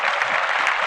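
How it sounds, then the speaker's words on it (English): A short burst of dense applause from an audience in honor of Harriet Tubman, bright and steady for under a second. "We'll clap that up for Harriett."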